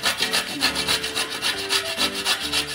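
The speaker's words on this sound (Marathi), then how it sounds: "आता आपल्याला किसणीच्या साहाय्याने या अशा काप आहेत या किसून घ्यायच्या." Raw papaya slices, seeds removed, rubbed against a hand grater for halwa, giving a steady run of close, rhythmic rasping strokes with no talking.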